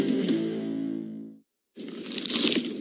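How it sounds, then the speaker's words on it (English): A slice of cheesy pizza gets a close, crisp crunchy bite that crackles sharply. The crunching stops for a short silent gap, then comes back as another bright, crackling crunch. "Is that the sound of an ooey gooey cheesy crunchy slice of P-I-Z-Z-A?"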